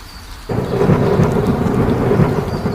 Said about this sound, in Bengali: অন্যদিকে হঠাৎ ঝড়ো বাতাস আর বিজলি চমকাতে থাকে।